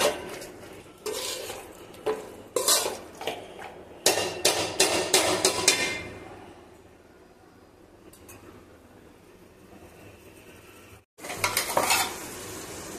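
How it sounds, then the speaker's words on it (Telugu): Half a kilo of chicken stirred in a sizzling pan for gongura chicken, with rapid scraping and clattering spoon strokes over a frying hiss, a quieter stretch of sizzle, then stirring resumes after a brief gap. "హాఫ్ కేజీ చికెన్ వేసి బాగా కలపండి. బాగా కలుపుకుందాము."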